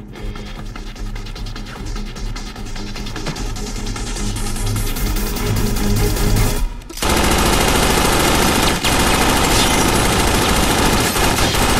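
Rapid automatic gunfire in a movie action scene, loud dense bursts that thicken into a continuous barrage after a brief drop, with no talking.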